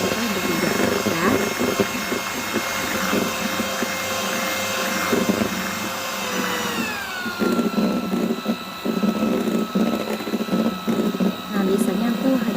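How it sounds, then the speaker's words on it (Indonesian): An electric mixer whirs steadily, beating egg yolks until thick and pale for a flourless layered cake, its loud motor tone shifting lower partway through as the batter thickens. "Kuning telur ini dikocok sampai mengembang putih kental"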